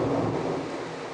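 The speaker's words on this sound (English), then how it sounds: "Expect a crack of thunder right now." Deep rumbling thunder rolls through a severe thunderstorm over New York City, a steady low roar with rain noise, loud and continuous with no voices.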